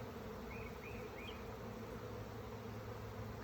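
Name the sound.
bee swarm buzzing around a house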